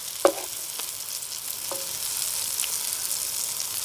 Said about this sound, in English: Quick turn of the onions.